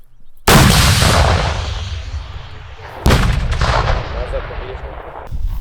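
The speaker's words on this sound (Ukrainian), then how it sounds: "Постріл!" Two loud, sharp shots from a military training exercise, about two and a half seconds apart, each followed by a long echoing rumble that slowly fades.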